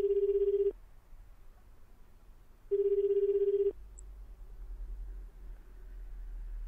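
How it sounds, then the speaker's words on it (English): A phone ringing on the other end of a call in the game 428: Shibuya Scramble, two steady electronic ring tones about two seconds apart, each lasting close to a second, clean and fairly loud over faint hiss with no voices. "read a number off of one, and made a phone call"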